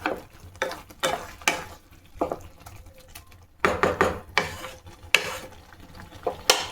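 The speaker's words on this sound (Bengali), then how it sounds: "এইবার আবার একটু ফুটবে গুড়টাতে।" Carrot halwa cooking with jaggery is stirred in a pot, giving irregular close scraping and clattering strokes of a spoon over a low bubbling simmer, with no speech.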